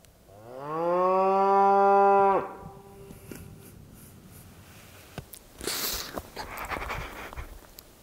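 A cow on Idaho backcountry public land gives one loud, drawn-out moo lasting about two seconds, close by, followed by quieter outdoor rustling and handling noise.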